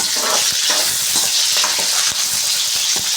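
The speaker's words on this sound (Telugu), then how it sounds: "ఎర్రగడ్డ కరేపాకు ఒట్టిమిరకాయలు ఇవి నూనెలోకి వేసుకున్నాం ఒకసారి కలుపుకున్నాము" Onion, curry leaves and dried red chillies fry in hot oil with a loud, dense, continuous sizzle, close up, with scattered stirring scrapes through it.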